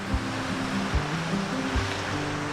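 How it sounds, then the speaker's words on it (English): A waterfall near a roadside parking spot after a storm, heard as a steady, broad rushing roar with no breaks and no voices. "Look at this waterfall."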